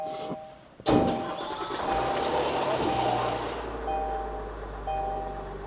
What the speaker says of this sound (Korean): 시동 한번 켜볼게요.